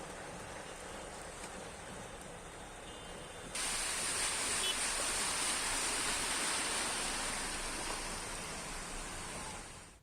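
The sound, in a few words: heavy rain and waterlogged streets in Patna, Bihar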